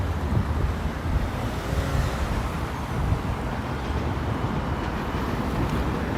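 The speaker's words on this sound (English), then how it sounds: "Hey, there's a GO train." A GO commuter train passes through Etobicoke, Toronto, on a hot day, heard as a steady, loud broadband rumble blended with wind buffeting the microphone, without fading for the whole stretch.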